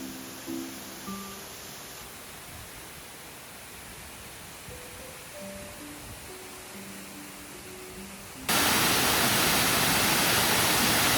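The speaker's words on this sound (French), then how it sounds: "cette petite cascade était très jolie" A small waterfall near the Voile de la Mariée falls on Réunion, heard as steady, broadband rushing water. It is faint at first, then jumps abruptly to a loud, close roar for the last few seconds.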